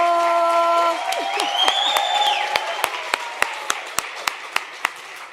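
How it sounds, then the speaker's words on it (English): Applause rises from an audience at a business enterprise development programme launch, building briefly under the end of a voice and music, then thinning out into scattered, distinct individual claps. "give yourself the loudest round of applause"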